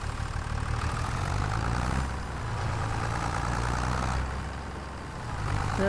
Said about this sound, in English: Now let's get into the tractor and drive out.